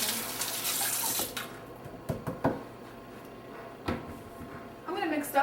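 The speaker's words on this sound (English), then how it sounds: "Wash my hands." Water runs from a tap into a sink during handwashing in a home kitchen, a close, steady splash for the first second or so, followed by scattered knocks and bumps.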